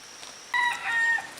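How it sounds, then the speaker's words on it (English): A few chickens clucking and squawking nearby in short bursts behind a village house in Santa Fe, Panama, over a quiet outdoor background. "I'll try hard to speak over the chickens"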